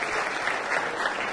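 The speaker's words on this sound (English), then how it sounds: "Can we give it an applause for the Country Club of Vermont?" Steady audience applause fills a brief moment at an SBA Small Business Person of the Year award event at the Country Club of Vermont, even, continuous clapping at moderate volume throughout.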